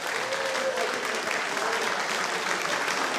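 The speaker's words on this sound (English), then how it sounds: "Big round of applause for Chef Adam and Hermes" A crowd applauds Chef Adam at the Bloomington Chef's Challenge cooking competition, a steady wash of many hands clapping at a moderate level throughout, with a faint voice briefly audible early on.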